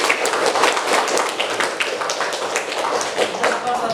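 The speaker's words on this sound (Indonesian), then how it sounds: "Tepuk tangan dulu untuk temannya." Classmates in a school classroom applaud a peer, a busy patter of many hands clapping close by, with voices mixed in under the clapping.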